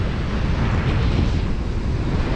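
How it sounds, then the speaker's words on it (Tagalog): Strong coastal wind at a seaside resort in Santa Ana, Cagayan roars steadily and loudly, a dense rushing buffet with no voices. "Eto, lakas pa rin talaga ng hangin."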